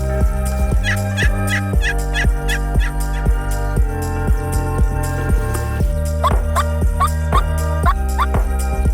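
Three wild turkey toms gobble repeatedly outdoors, loud rolling gobbles overlapping in quick succession and carrying clearly over a steady background, with no talking.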